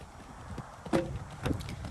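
Horse hooves clip-clop during a jumping lesson, two distinct footfalls standing out over soft background noise.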